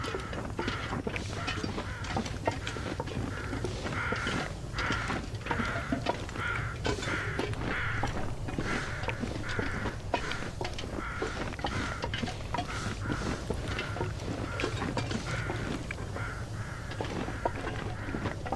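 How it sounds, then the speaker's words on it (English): Several crows caw repeatedly in the video game Buried Echoes, harsh calls recurring steadily over a continuous low ambient rumble, fairly close and prominent with no talking. "I definitely hear some crows."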